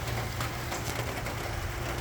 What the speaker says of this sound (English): It's been raining ever since I've been home